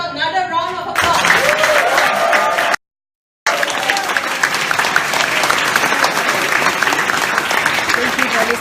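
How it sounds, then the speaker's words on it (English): A seated audience at a business conference breaks into loud, sustained applause after a brief opening sound, the clapping continuing steadily with a short gap partway through. "Now, can we give Jeff and Michelle another round of applause?"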